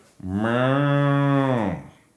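A single long, loud cow moo from the PS1 racing game South Park Rally, a low droning call that swells in and holds steady before trailing off.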